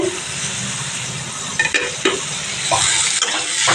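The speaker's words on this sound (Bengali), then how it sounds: "এখন উচ্ছে ভাজা হচ্ছে রসুন দিয়ে আর লঙ্কা দিয়ে" Bitter gourd pieces fry with chopped garlic and chilli in a pan, a steady sizzle broken by a few sharp scrapes of a spatula stirring the pan, close and fairly loud.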